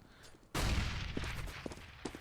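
Counter-Strike gunfire during an ESL EPS France esports match, an abrupt loud burst of shots followed by a dense sustained rattle with a few sharper cracks scattered afterward, no commentary over it.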